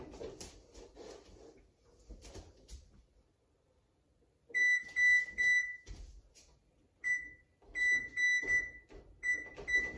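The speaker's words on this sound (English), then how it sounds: "I'm gonna set my timer." A timer set for a 60-second basketball passing challenge beeps in quick, bright repeated bursts, loud and close, after a few seconds of quieter indoor shuffling and movement.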